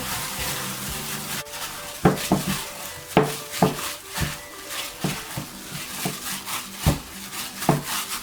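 A sausage and egg pie filling with mixed herbs is stirred in a bowl, giving irregular clinks and scraping knocks of a utensil against the bowl, close and fairly loud.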